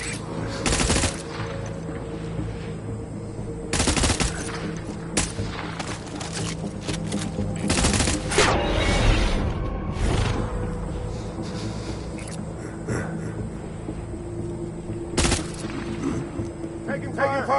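Bursts of automatic gunfire break out in Death Stranding, sharp loud volleys separated by gaps, layered over game ambience and occasional speech.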